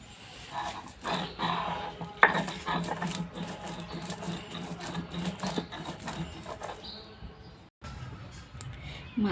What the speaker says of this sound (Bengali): মাছটা একটা শিল পাটায় বেটে নেব।